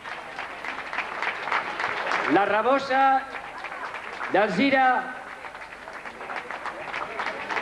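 A crowd applauds the winners of a footrace in Sueca, steady clapping running underneath a public-address announcer whose voice carries through most of the stretch.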